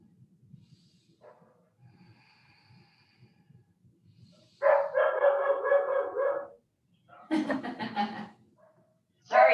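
A dog barks during a home morning hatha yoga session, two loud bursts of barking after a stretch of quiet breathing and soft room noise, with a voice talking faintly in the background.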